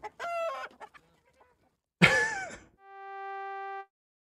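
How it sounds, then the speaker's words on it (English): A chicken clucks and squawks in a few loud, close bursts, with a brief electronic tone after and near silence between calls. "Is that chicken sound in the tap song?"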